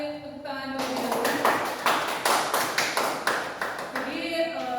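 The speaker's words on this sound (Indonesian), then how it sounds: "kita beri tepuk tangan terlebih dahulu." Applause in a classroom lesson, a modest burst of rhythmic hand clapping from students that swells and then fades, with a voice heard before and after it.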